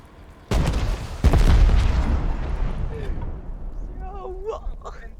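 An explosion in the Rust video game during a fight against the Bradley armored vehicle: two loud, close booms in quick succession roll into a long rumbling decay, with faint voices rising near the end.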